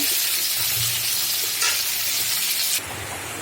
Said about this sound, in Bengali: আমার লাল লাল করে ভাজা হয়ে গেছে আলু আর কচুর মুখি